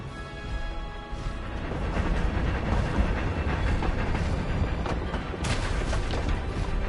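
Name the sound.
Hogwarts Express train passing in video game Hogwarts Legacy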